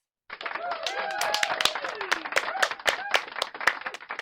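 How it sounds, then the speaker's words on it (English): A crowd bursts into applause and keeps clapping steadily and fairly close for about four seconds, the sound of many hands blended with a few voices talking over it. "Where's the applause?"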